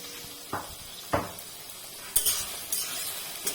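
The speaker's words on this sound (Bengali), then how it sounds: "এবার আমি এটাকে এই কম আঁচে কম তাপে খালি নেড়ে নেড়ে ভাজতে থাকবো।" Pui mituli stirred and fried over low heat with turmeric and chilli powder, a soft sizzle under a handful of scraping strokes of a spoon against the pan, close and spaced about a second apart, with no talking.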